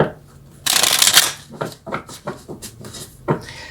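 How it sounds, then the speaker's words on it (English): Tarot cards shuffled by hand at close range, a dense riffling burst followed by softer irregular card slaps and flicks, with some speech alongside. "let's pull a few more cards."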